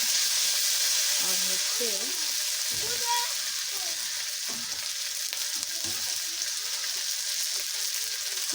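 Beef tripe fries with onions, spices and ginger-garlic paste in a pan, a constant loud sizzle with stirring scrapes, while a person speaks briefly over it.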